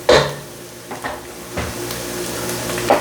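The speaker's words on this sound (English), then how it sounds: "Give it a nice little stir. Look at that, how softened your Mirepoix is looking." A spoon stirs softened mirepoix in a pot for corn chowder: a low steady sizzle with a few scraping clinks against the pot, close and moderately loud, with no talk.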